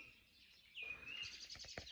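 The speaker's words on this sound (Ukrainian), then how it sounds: "Тільки пташки цвірінькають" Small birds chirp faintly in an orchard in the early morning, a thin whistled call followed by a few quick tweets against quiet surroundings.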